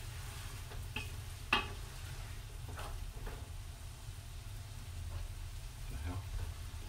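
Meatless sapasui being stirred as it fries in a pan, with a steady low sizzle throughout and a few brief scraping stirs, one sharper clatter near the start.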